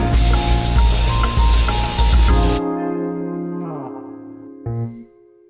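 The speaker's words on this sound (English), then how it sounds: "One last Rhodes note here, but that's the sound of a band finishing up." A band's song cuts off on a final loud hit, leaving a sustained Rhodes electric piano chord ringing and fading, with one brief last Rhodes note near the end before silence.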